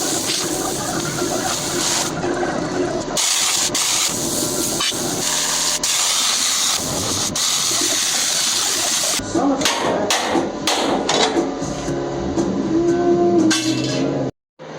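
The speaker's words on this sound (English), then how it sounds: "we're gonna take the plasma cutter and cut along this too and get that out" A plasma cutter slices through the steel frame of a 1978 Ford F150 pickup in a shop, a harsh hissing roar in bursts with short breaks and clanks, close and loud, no talk.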